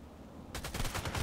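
Rapid automatic gunfire from the online shooter Contract Wars bursts in after half a second of quiet, a loud, sustained string of closely spaced shots with no talking.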